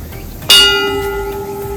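A single strike of a shrine bell in Miyazaki, Japan, rings out clearly and close, its bright metallic tone sustaining and slowly fading over more than a second, with no talking.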